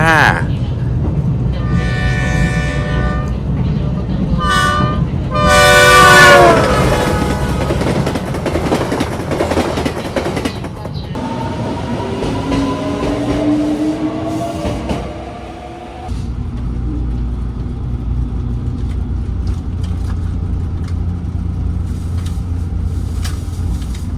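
A Yufuin line train travelling from Yufuin to Hakata in Japan sounds several loud, bright horn-like tones near the start. A steady rolling rail rumble follows, with a sudden drop in noise part way through as the carriage sound shifts.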